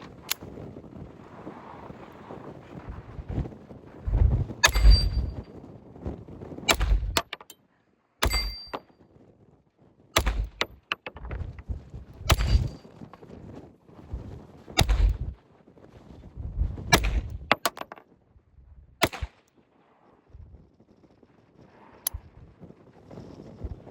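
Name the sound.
gunshots from Colt M1903 pocket hammerless pistol, .32 ACP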